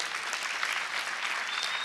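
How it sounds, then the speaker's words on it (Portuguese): A seminar audience applauds steadily throughout, a dense wash of clapping from many hands with no break and no speech over it. "Você pode aplaudir a Deus por isso?"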